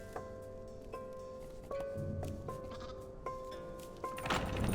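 A goat in the puzzle video game Creaks bleats several times in a short series of wavering, moderately loud calls over soft ambient game background.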